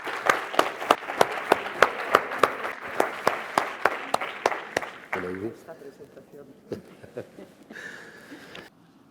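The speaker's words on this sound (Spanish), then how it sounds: "para la que pido un fuerte aplauso" An audience at a rheumatology talk applauds to welcome the speaker, a burst of rhythmic clapping that stays loud for several seconds before fading into scattered claps and room noise.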